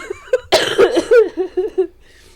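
A loud, close fit of coughing, several rough hacks in quick succession with a few voiced, throaty gasps between them.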